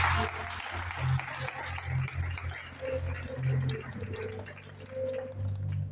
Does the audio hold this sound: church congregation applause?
yes